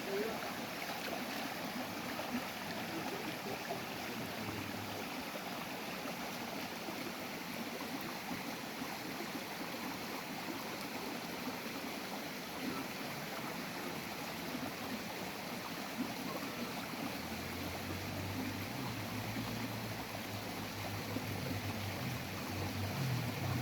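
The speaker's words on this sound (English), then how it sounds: "See water, the river water runs away then." Faint, continuous wash of flowing river water in Jamaica, a soft steady rush with a low rumble creeping in near the end.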